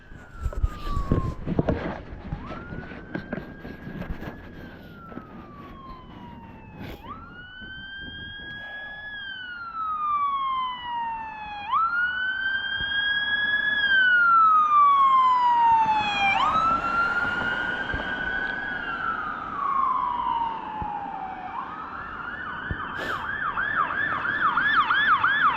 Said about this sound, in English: Enjoy the police cars zipping by.